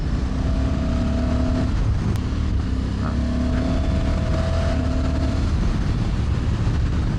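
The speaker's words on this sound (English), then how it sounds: "You've still got a really lovely engine growl." A 2024 Honda Africa Twin Adventure Sports motorcycle engine growls steadily under way, a continuous loud drone with rising and falling tonal whine, heard alone without talk.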